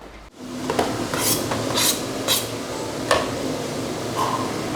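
Kitchen cooking clatter: a metal utensil scraping and stirring in a pot, with several sharp clinks and knocks spaced irregularly over low background hiss, fairly close.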